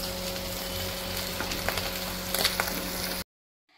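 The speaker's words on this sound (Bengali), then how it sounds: "আর এই মাছগুলো ভাজছি চাপা দিয়ে" Tangra fish frying in a pan under a lid give a steady close sizzle scattered with sharp crackling pops, then the sound cuts off abruptly into silence.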